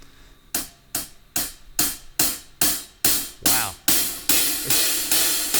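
Hi-hat cymbals struck in a steady rhythm about a dozen times, starting tight and clipped and gradually opening into a louder, washier sizzle.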